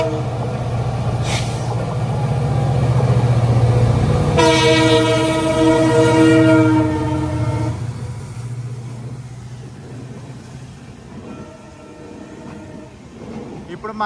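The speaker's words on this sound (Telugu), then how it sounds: "జైపూర్ స్టేషన్ నుంచి ఏదో ట్రైన్ బయటకు వస్తుంది." Train pulling out of Jaipur station, a steady rumbling run with a long, loud horn blast in the middle and fainter horn notes near the end.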